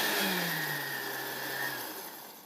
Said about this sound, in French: c'est parti pour un bon coup de mixeur